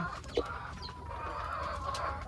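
Chickens clucking softly nearby, a few short throaty calls over a quiet background hum.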